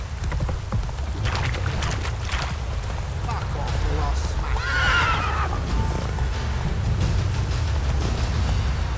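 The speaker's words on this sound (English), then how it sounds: "Whoa there, Roach." A horse neighs in The Witcher 3, a loud whinny midway over a continuous low rumble of ambient game sound, with a voice speaking nearby.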